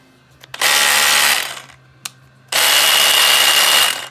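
A Bosch GBH 18V-26 cordless rotary hammer drill runs in two loud bursts of about a second each, with a quick trigger tap between them, heard close up and without talk.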